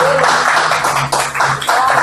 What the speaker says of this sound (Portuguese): Você pode aplaudir a Deus por essa palavra